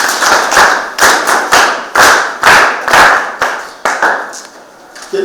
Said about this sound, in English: You can clap for her as well.